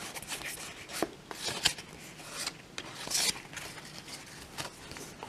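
Dragon Ball Z Saiyan Saga trading card pack being opened, with soft scattered crinkles and scraping rustles of foil wrapper and cards, including a few sharper snaps, close and fairly quiet.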